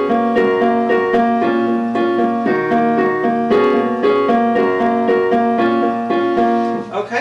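Piano playing a song, a steady run of clear, ringing melodic notes over sustained chords, loud and close, with no talking.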